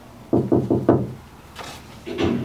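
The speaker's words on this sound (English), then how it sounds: "Hark, more knocking." Knocking on a door: a quick run of four firm raps, then a pause with a faint scrape and a second softer burst of knocks, close and loud with no voices.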